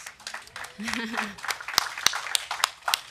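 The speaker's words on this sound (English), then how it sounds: "yes, round of applause for that." Scattered hand clapping from a small group at a school board meeting, uneven and sparse, with a brief voice partway through.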